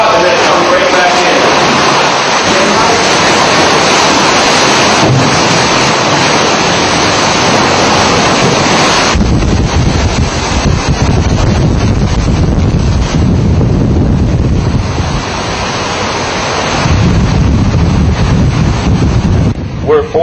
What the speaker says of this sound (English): See the water get sucked out and then come right back in.